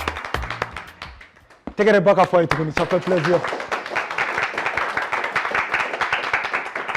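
A small group in a radio studio applauds a guest, sharp close clapping that starts after a brief pause and continues steadily, with someone talking over it at first.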